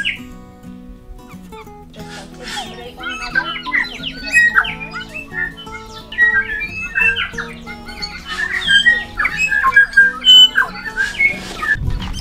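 Birds on Tiritiri Matangi Island call and squawk repeatedly at close range, with bursts of sharp whistles, chirps and harsh squawks growing busier and louder toward the end.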